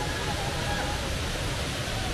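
Lakkam waterfalls in Munnar pour in a steady, dense rushing roar of falling water, constant and fairly close throughout with no pauses.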